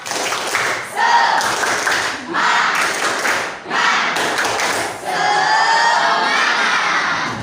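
A class of schoolchildren performs a rhythmic clapping chant, bursts of loud unison shouting alternating with sharp group claps, close and energetic over several seconds.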